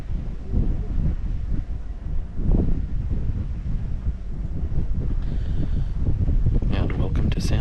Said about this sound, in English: So it's a little windy, and I don't know how audio is going to be on the camera